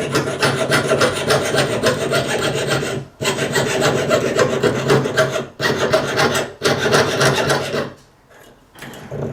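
A file rasping along the edges of a small stamped metal pendant in a jewelry class, loud close strokes in long continuous bursts broken by brief pauses.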